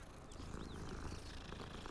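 A cat purrs in the video game Hogwarts Legacy, a steady, close rumbling purr running throughout with no speech over it.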